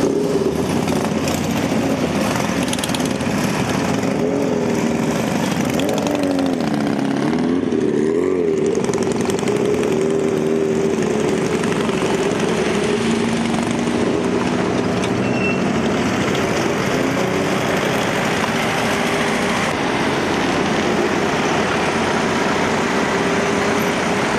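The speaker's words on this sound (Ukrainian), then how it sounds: "Тіло героя супроводжували й мотоциклісти, і понад 50 автівок." Motorcycles and more than 50 cars drive slowly through a city centre in a funeral procession, a steady continuous engine drone with a low rumble that swells slightly midway and holds throughout, with no talking.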